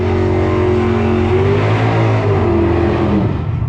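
Drag racing car making a full pass at a drag strip, a loud, continuous engine roar that climbs in pitch and then fades slightly toward the end, with no speech.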